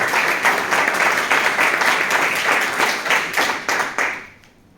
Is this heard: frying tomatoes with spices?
no